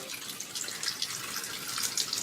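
Running tap water hissing and splashing steadily into a container to make an ice bath, moderately loud with no voices.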